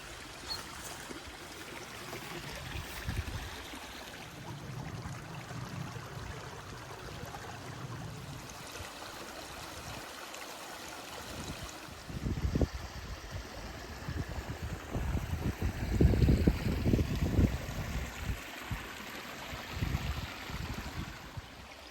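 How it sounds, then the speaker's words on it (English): Mickleden Beck, a woodland brook, flows with a steady rushing babble throughout, growing louder and more turbulent in the second half as splashing water comes nearer. "following Mickleden Brook up through this beautiful bit of woodland"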